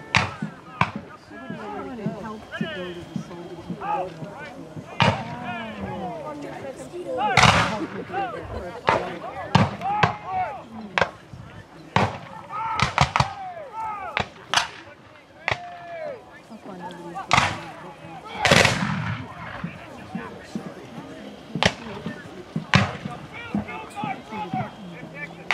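Civil War reenactment battle at the Strasburg Railroad, with sharp, loud musket and cannon reports scattered irregularly over about 25 seconds, some shots single and others in quick bunches, under steady crowd chatter and talk.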